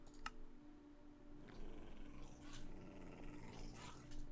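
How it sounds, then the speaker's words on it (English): A Minecraft wolf growls faintly in the background of quiet gameplay, with a low, rumbling growl and a few soft clicks. "Wolf growl."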